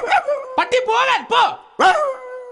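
A comedy stage performer imitates a barking dog with his voice, giving five or six sharp, yelping barks and whines in an uneven burst, close and loud.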